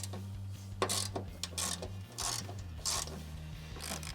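A hand ratchet clicks in short bursts while removing 10 mm grille bolts on a Ford Transit, with rapid pawl ticks and scraping between pauses, close and moderately loud.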